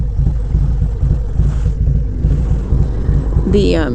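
A 2021 Harley-Davidson Road King with a Stage 2 upgrade, its engine a loud, steady low rumble under wind buffeting while riding, with a voice briefly audible near the end.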